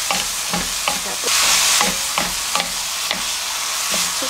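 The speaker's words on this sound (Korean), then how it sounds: "이제 볶아줍니다. 불은 세게 할게요." Bean sprouts seasoned with pepper are stir-fried over high heat, a loud continuous sizzle broken by regular scraping strokes of a utensil against the pan, close and with no voices.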